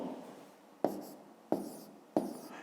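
A pen scratches out a fifth-grade math solution on paper. Three short, crisp strokes land at even intervals, close and quiet, over a faint soft background, with no voice.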